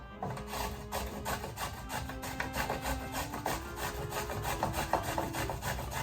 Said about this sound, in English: we're gonna grate it on the box grater.